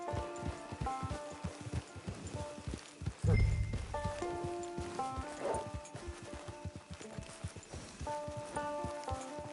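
A horse's hooves clip-clop at a steady trot in Red Dead Online, with occasional heavier thuds, under a soft melodic game soundtrack throughout.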